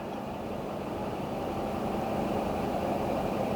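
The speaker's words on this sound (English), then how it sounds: "We got a Ferrari flat 12 with almost 400 horsepower." A 1990 Ferrari Testarossa's nearly 400-horsepower flat-12 engine runs steadily, a quiet, even mechanical hum with a low rumble underneath, faint and unbroken throughout.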